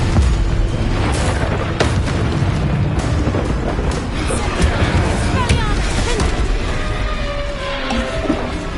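Spell blasts in Hogwarts Legacy on hard difficulty, a dense barrage of booming explosions and bursts under a constant roar of combat noise, loud and close.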